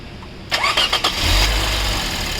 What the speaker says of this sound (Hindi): गाड़ी स्टार्ट की हमने